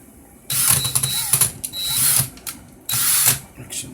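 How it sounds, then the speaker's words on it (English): Cordless power drill whirring in short bursts during a coil build for a Peerless RDA with 42 gauge wire, two longer runs with brief stops, close and loud. "Get my drill."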